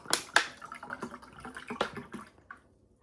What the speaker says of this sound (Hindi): तो इसमें बस सिर्फ और सिर्फ पानी डाल के साथ पी जाएंगे